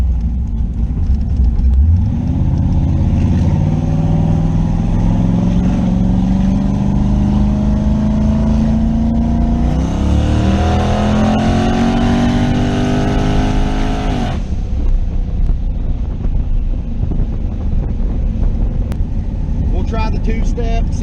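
A drag car engine sits on a two-step launch rev limiter, holding a loud, rough, steady drone. Its pitch climbs slowly, then surges higher before cutting back to a lumpy idle. No one speaks.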